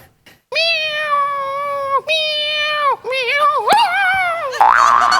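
A man imitates a cat with a series of drawn-out, wavering vocal meows, three long calls in succession followed by a rising squeal, loud and close.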